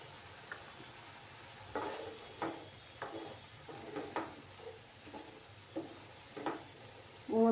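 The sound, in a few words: small fish masala frying in a pan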